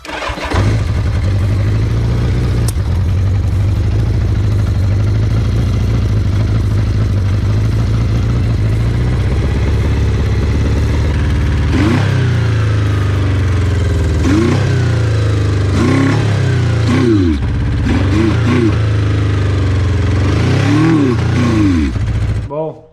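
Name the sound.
cheap motorcycle engine restarting and revving after carburetor work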